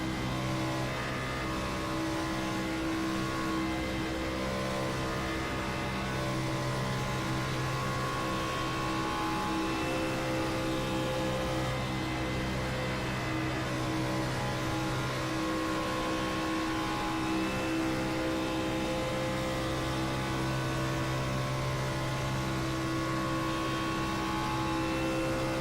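Onboard engine of a race car lapping Talladega Superspeedway in a racing video game, a loud steady drone holding near-constant pitch for the whole stretch, with no voices over it.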